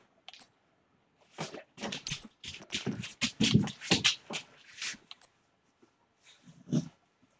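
A dog in the video game The Division 2 whimpers and whines in a run of short, uneven vocal bursts, a few louder than the rest, followed by a brief pause and then one last whimper.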